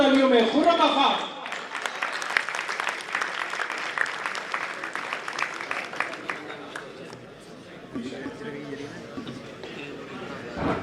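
Audience applause at a poetry recital, a sustained patter of many hands clapping for about ten seconds after a voice introduces the poet, fading slightly toward the end.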